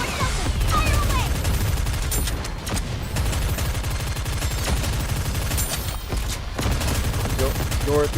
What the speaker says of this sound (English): Aegis cannon, full steam ahead! Open fire! Target locked. Commence bombardment!